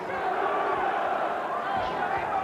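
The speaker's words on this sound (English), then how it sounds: "Crowd chanting, Bruno, Bruno" A boxing crowd at an outdoor heavyweight fight chants a fighter's name, a dense rhythmic roar of many voices, steady and fairly distant.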